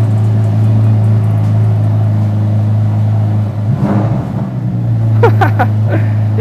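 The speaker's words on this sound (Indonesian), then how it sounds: "supaya kalian denger juga gimana raungan mesinnya, langsung kita nyalain aja" A turbocharged supercar engine starts and hums steadily at a low pitch, then briefly surges and rises in revs near the end, loud and close.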